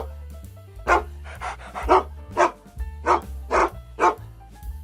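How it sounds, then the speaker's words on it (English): A dog barks about eight times in a loose, uneven rhythm, each bark loud and close, over a soft musical backdrop. "Dog."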